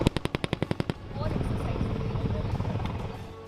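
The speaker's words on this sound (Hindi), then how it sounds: "LH के फाइटर पायलट ने फायरिंग किया" Gunfire from an LH fighter helicopter: a rapid burst of about ten sharp shots opens, then gives way to a loud, dense rotor roar; a voice talks over it.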